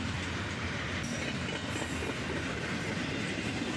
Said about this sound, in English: a southbound intermodal train